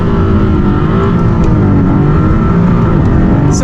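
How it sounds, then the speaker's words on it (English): A 2022 Maserati MC20 supercar holds its engine at high revs with foot on brake and throttle before a launch, a loud, close, steady drone that builds boost without letup. "Revving up, building boost."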